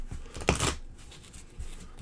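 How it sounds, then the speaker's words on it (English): A couple of quick shuffles of a small deck of number cards from a card game, soft papery riffles and flicks close by, with a brief louder burst in the middle. "So let's grab the number cards again. Give them a whirl, a couple shuffles."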